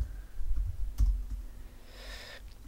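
A computer keyboard clicks in a few quiet, irregular taps and short bursts of typing against faint room noise.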